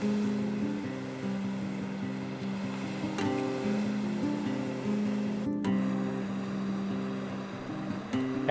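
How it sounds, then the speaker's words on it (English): The Okisollo tidal wave between Quadra and Sonora Islands in British Columbia breaks continuously in a strong flood current as sea kayaks surf it, a steady rushing roar of water heard under a motor-like hum, with no voices. "This is the Okisollo wave, found between Quadras and Sonora Islands in British Columbia's Inside Passage."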